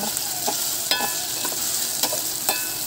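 A spoon stirs ground pepper into onion and tomato in a sizzling pan, with several distinct scraping strokes over a constant frying hiss, close and clear with no talking.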